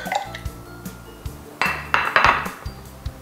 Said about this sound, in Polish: przelewam jajka.